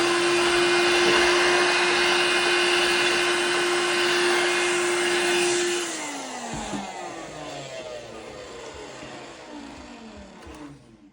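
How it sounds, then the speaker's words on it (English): A loud vacuum cleaner whines steadily up close while cleaning dust from inside a PS5 console and its fan, then its pitch drops and the suction changes as the nozzle moves, tapering off near the end. "I'll try to vacuum some of it."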